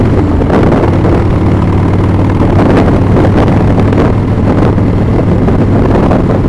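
A 1997 Springer Softail motorcycle engine on a test ride: a loud, continuous low rumble and drone buffeted by heavy wind noise, steady throughout with slight surges.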